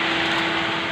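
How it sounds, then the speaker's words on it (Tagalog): A swimming pool vacuum runs at full suction with a steady, loud whirring hum and a constant high tone, heard close up alone. "Kaya ang gagamitin natin pang vacuum ngayon"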